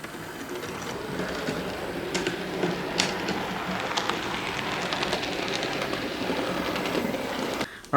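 A model railway locomotive runs steadily around its track, giving a continuous close, even whirring rattle with small clicks over rail joints, no voices, before stopping abruptly near the end.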